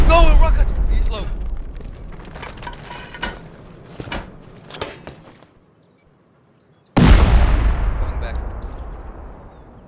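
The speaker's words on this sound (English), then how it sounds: "I threw a C4 out there. No, a rocket!" A C4 or rocket blast in the survival game Rust, a sudden loud close explosion that follows excited speech and a short near-silent gap, then a long decaying rumble.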